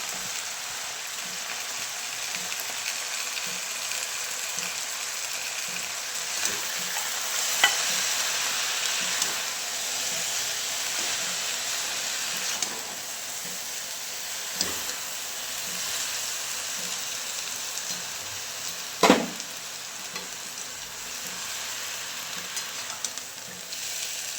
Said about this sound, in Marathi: आता थोडीशी मुगाची डाळ घातली ते भिजत ते पण टाकते आता